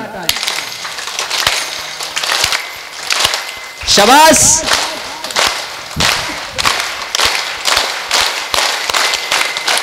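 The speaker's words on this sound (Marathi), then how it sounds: "एक सगळ्यांनी सुंदर टाळी वाजवायची." An audience at a kirtan claps in a steady rhythm along with a leader, with sharp slaps repeating throughout, a voice speaking over them and a brief whooping whistle in the middle.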